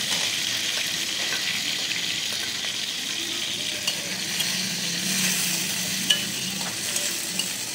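Marinated chicken pieces with black pepper, ginger-garlic paste and salt fry in hot oil with a steady, loud sizzle, close up, with occasional faint stirring clinks and no talk.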